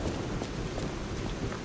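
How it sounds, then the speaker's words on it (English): Steady, dense rain falls on a rainy night in the video game Lies of P, a continuous close hiss with low rumbling underneath and no pauses. "Rainy night."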